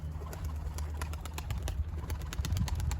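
Pigeons coo softly in repeated low, throaty phrases, close but fairly quiet, with a few lighter bird calls mixed in and no talking.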